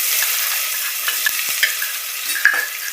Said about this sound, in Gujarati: હવે રાઈ જીરું નાખી દઈશું, થોડું હિંગ નાખી દઈશું અને આદુ મરચાંની પેસ્ટ નાખી દઈશું